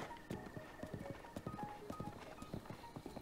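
A horse's hooves clip-clop at a brisk trot in the video game The Legend of Zelda: Breath of the Wild, a rapid, even rhythm of hollow knocks, moderately close.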